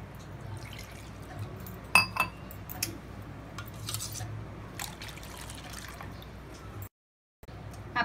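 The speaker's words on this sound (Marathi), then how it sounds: "हे भांडं पण आपल्याला धुवून घ्यायचं आहे।" A vessel being washed while making pani puri, with faint splashes and drips of water and light clinks of the pot, quiet and intermittent, broken by a brief silence.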